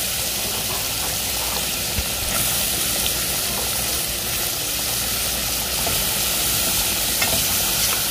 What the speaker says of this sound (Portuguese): Colocar já para ir fritando a cebola e o pimentão.